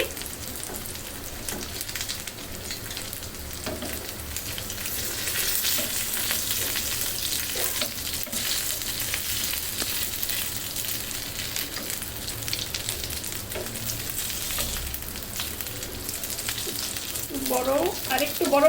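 Malai seekh kebab sizzles steadily in a pan for a long stretch, a continuous broadband crackle with occasional louder pops and a brief voice near the end.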